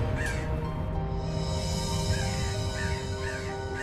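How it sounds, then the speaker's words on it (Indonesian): Crow cawing in a series of harsh, repeated calls, heard clearly over a steady low background hum with no talking. "Burung gagak. Ini suara burung gagak."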